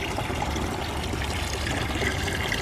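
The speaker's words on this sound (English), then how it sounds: "let's fill this bad baby with water" Water running steadily into a container at a homestead, a constant close rushing and splashing flow that stays even throughout, with no talk.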